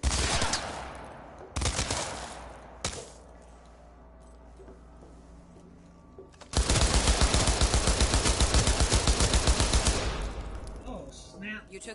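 Bursts of automatic AK rifle fire in the Cyberpunk 2077 video game, a few short volleys early, then a long, loud, rapid sustained string of shots near the end, with game voices talking.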